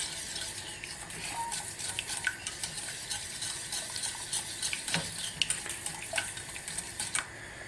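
A spoon works through a thickening white roux sauce in a pan, giving soft irregular scrapes and clicks over a faint low bubbling hiss, fairly quiet and close, with no voices.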